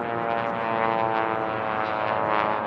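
Silver-class race biplanes at the STIHL National Championship Air Races roaring past a pylon, a steady loud propeller-engine drone holding through the clip with no voices.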